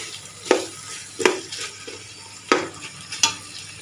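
Chicken curry sautéing in a pan for chicken biryani, a steady sizzle broken by about four sharp stirring scrapes spaced a second or so apart, close and fairly loud with no talking.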